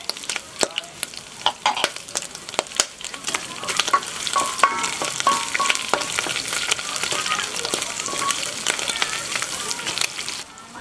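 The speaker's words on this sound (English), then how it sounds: "Now we're going to add the brown sugar and let that caramelize." Brown sugar caramelizes in a paella pan with chicken and prawns, giving a continuous frying sizzle mixed with irregular scraping and stirring clatter, steady and close.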